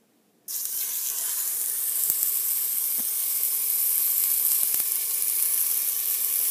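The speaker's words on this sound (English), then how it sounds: "Okay, so now I've cut it into little strips, and I'm going to start browning in sections." Strips of beef seasoned with salt and pepper hit a hot pan and brown in batches for shredded beef. After a brief silence a loud, steady hiss starts abruptly and keeps sizzling close up without a break.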